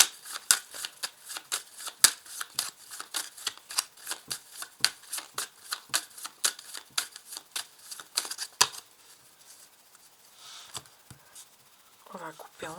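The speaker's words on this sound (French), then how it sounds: "On va couper en deux. On va placer les cartes." Tarot cards are shuffled and cut in a long run of rapid, crisp riffling clicks close to the mic, which thin out into scattered snaps, with a brief voice near the end.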